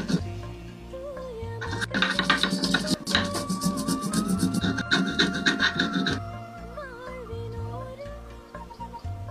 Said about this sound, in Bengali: এবার আদা, কাঁচা লঙ্কা, শুকনো লঙ্কাটাও বেটে তুলবো।